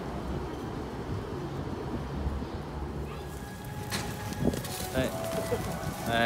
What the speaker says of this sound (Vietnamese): Đây, cho bồ câu ạ.